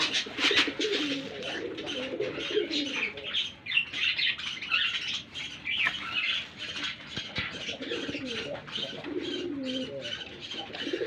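A male pigeon coos repeatedly at close range, giving continuous rolling, throaty coos with a few squawks and other birds calling in the loft behind.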